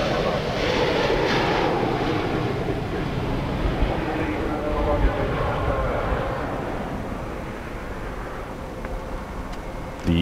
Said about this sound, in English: And here we are now presenting our new Airbus A350 XWB,